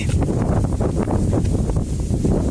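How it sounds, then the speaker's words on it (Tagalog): Strong wind from a typhoon buffets the microphone over a rice field in a constant, loud rumbling roar with gusty fluctuations throughout. "Ang lakas talaga ng hangin ngayon,"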